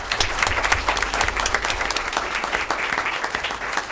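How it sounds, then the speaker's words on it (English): Audience applause at a school board of education meeting honouring a bowling coach, a brisk, steady patter of many hands clapping in a room, fairly close and sustained throughout. "So let's give Coach Mays a round of applause."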